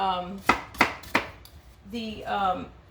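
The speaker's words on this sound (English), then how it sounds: "just cubing them up in little tiny cubes" A knife cuts apples into tiny cubes, three sharp chops on a board in quick succession, close and distinct, with a voice talking before and after.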